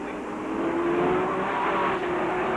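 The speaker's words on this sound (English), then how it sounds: "Race fans here today are going to have a sore neck watching these cars go around and around and around." Race cars lap the track at a 1999 MASCAR race, their engines a steady droning whine that swells slightly and sags, heard from a distance at moderate volume with no talk.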